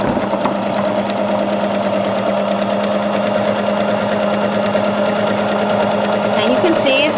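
Sewing machine stitches a decorative scallop design on a fabric panel with a steady, fast mechanical chatter and hum. It runs close and unbroken from start to end.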